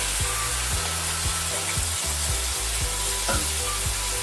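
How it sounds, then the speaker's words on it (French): White wine poured into a cooked roux for moules poulette sizzles steadily in the pan, a broad constant hiss with a regular series of low scraping knocks from stirring, close and without talk. "Voilà, le roux est cuit, on y met le vin blanc."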